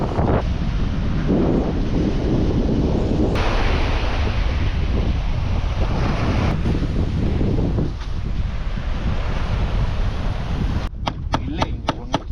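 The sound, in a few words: winter sea waves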